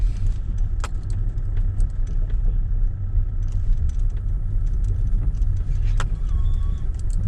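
A car creeping slowly down a steep mountain track toward Mt Major, with a steady low engine rumble, rattling and jangling over the rough ground, and occasional sharp clunks, close-up with no talking.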